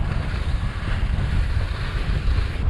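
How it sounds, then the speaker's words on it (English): Steady wind roaring and buffeting against the microphone in the frigid Finnish Arctic, a constant broadband rush with low rumble, no voices. "it's kinda windy here right now"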